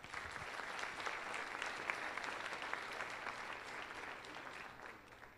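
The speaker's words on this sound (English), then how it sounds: "A round of applause." Steady audience applause at a kindergarten orientation, many hands clapping continuously at moderate loudness for several seconds before tapering slightly at the end.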